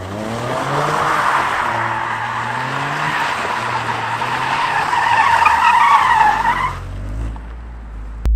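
Tires of a Toyota GR Corolla screech and skid as the car slides sideways, a loud, sustained squeal with the engine droning underneath, ending abruptly with a brief thump.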